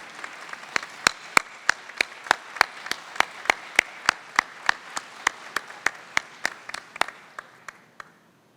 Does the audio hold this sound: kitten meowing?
no